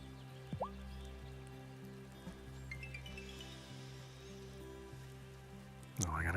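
Rain falls in the video game Wylde Flowers as a steady soft patter over looping background music, with a brighter splashy burst near the end.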